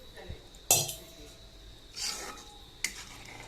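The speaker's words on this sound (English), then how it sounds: "So just mix it thoroughly." Tamarind water being stirred into baingan bharta, a smoky mashed eggplant dish in a pan, giving three distinct scraping clinks of a spoon against the pan with a soft, quiet stir in between.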